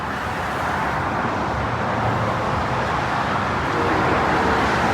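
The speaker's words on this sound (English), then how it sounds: "We're crossing over Interstate 87 and traffic is really loud." Dense highway traffic roars on Interstate 87 beneath a trail crossing, a constant broad rumble of cars and trucks that stays steady and loud throughout, with no one talking.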